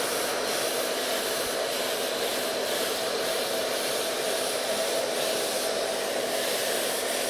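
A hair dryer blows steadily on hair being straightened with a round brush, a constant close whooshing hiss with no pauses and no voices.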